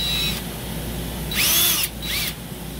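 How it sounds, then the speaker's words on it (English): Small modified drill point in a power drill removing burrs from a machined part in a CNC shop, two short whining drilling bursts following an earlier brief spin, close and without talking. "modified a little drill point here to go ahead and drill these two locations"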